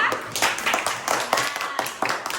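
Hand clapping from a class during a school lesson: a burst of uneven, sharp claps runs throughout the short stretch, close and fairly loud.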